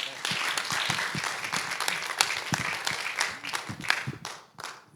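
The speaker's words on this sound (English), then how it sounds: "give a nice standing clap ovation for him for his service" A standing ovation at a community panel, a broad crowd of clapping hands that holds steady and then tapers off at the end, with some voices mixed in.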